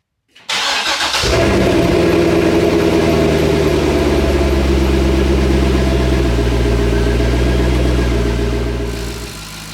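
A Chevrolet Corvette C6 V8 catches from a cold start with a sharp burst, then holds a loud, deep, lumpy idle close by, steady for several seconds before easing slightly at the end.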